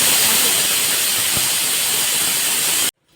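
Pressure cooker on a gas stove venting steam while cooking rice, a loud continuous hiss that holds steady for about three seconds, then cuts off abruptly.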